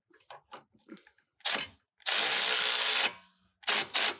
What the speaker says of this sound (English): And then I'll use the electric ratchet to see if I can snug it up any further.